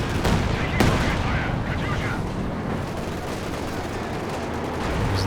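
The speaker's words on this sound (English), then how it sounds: "the Vet 3 PPSH is ripping through" PPSh submachine gun fire in a Company of Heroes 2 battle, a dense continuous rattle of rapid shots mixed with other battlefield noise, loud and unbroken throughout.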